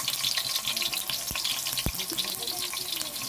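Sliced ginger sautéing in hot cooking oil at the start of a home-cooked pakbet with tilapia: a steady, dense sizzle and crackle with a couple of soft knocks, close by.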